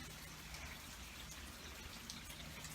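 Steady rain falls outdoors in a continuous, even hiss and patter of drops, with no voices over it.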